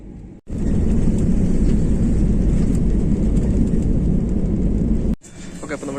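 Steady broadband roar of a jet airliner cabin in flight while descending to land through turbulence, loud and continuous with a brief dropout near the start and a dip near the end.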